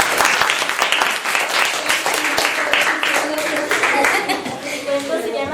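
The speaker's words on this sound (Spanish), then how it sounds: "un aplauso a Jacqueline" An audience claps for a presenter named Jacqueline. Many individual hand claps stand out within a lively, sustained round of applause lasting over five seconds.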